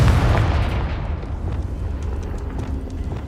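A Confringo fire spell explodes in Hogwarts Legacy: a loud, close blast booms up front and then fades into a rumbling, crackling tail.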